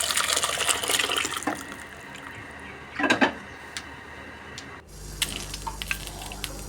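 Cooked vegetable-free kurma poured from the pan into another vessel, a close wet splashing pour followed by a few scraping clinks of metal utensils against the pot, without talk.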